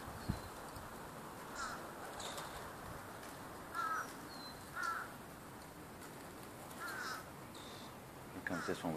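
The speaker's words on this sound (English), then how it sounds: "Freaking crow, that's a crow right there." A crow caws outdoors several times at a moderate distance, with harsh calls spaced a second or more apart over a steady background hiss.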